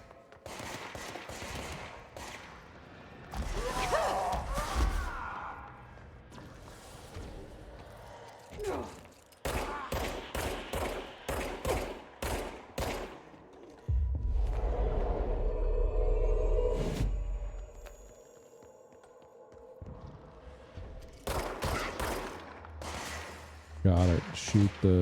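Bursts of gunfire in the video game Control, volleys of rapid shots broken by short pauses and deep low thumps, with someone talking between some of the bursts.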